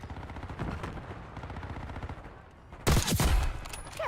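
An enemy sentry turret opens fire in a military shooter game, a steady rattle of rapid automatic shots that runs throughout before a louder, closer burst of gunfire and impacts breaks in.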